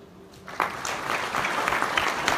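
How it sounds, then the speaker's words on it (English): A crowd at a Samsung Galaxy S8 launch event in Dubai breaks into applause after a brief quiet start. The clapping swells quickly and then holds dense and steady, fairly close by. "Please give a big round of applause for making this partnership possible."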